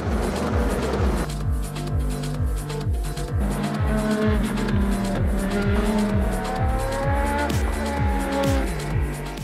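Toyota endurance race cars racing at Spa-Francorchamps in a six-hour WEC race, loud engines rising and falling through repeated gear shifts, several cars overlapping close by.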